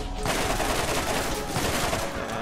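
Rapid rifle gunfire from the Borderlands video game, a dense continuous burst of loud shots filling the whole moment with faint voice underneath.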